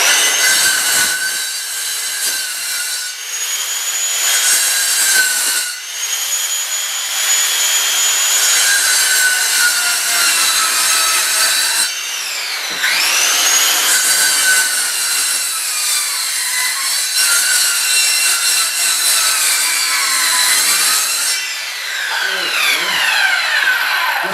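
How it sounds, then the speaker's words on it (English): A reciprocating saw (sawzall) cutting wood bathroom subfloor in a mobile home: loud, continuous, close buzzing with frequent pitch sweeps and a few brief breaks as the blade bites and restarts. "Decided to go about the same direction as my sawzall."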